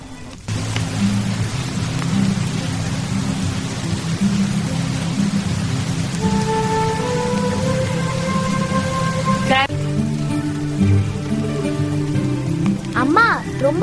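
Steady rain falls around a hillside cottage, a continuous hiss throughout, with voices talking over it and a few tonal sounds joining partway.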